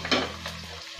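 Tomatoes frying in hot oil for a brinjal fish curry, a steady close sizzle with a brief stirring scrape, alone and without talk, cutting off near the end.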